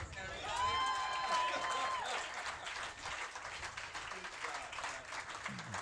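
An audience applauds at a film screening, clapping spread through the room and fading to a lighter patter, with a whistle-like tone early and scattered voices mixed in.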